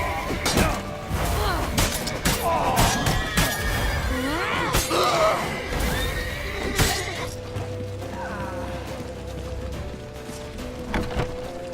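A horse neighs loudly in The Witcher 3, with clattering, crashing chaos and shouted voices over a busy action scene.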